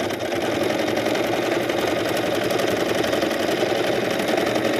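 A portable sewing machine stitches fabric in a straight line for a semi-overlock edge finish, its motor whirring steadily and loudly throughout with a dense mechanical hum and no pauses.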